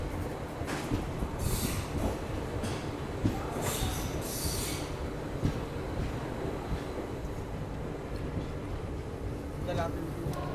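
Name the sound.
Sabarmati Haridwar summer special train 09425 running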